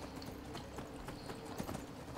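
Horse hooves galloping in Skyrim on the vanilla-speed mount, a steady rhythmic clip-clop running throughout at moderate, fairly close level with no talk.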